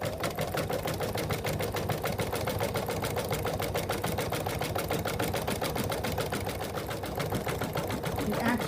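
A sewing machine stitches a satin line with a dense zigzag, making a fast, even mechanical clatter that runs steadily and close throughout without pause.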